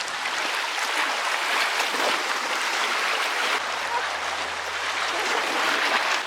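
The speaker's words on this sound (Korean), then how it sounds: "파도 소리 들리세요?" Ocean waves wash continuously onto a volcanic rock shore, a broad, loud, hissing surge with no clear breaks, and a low hum joins partway through.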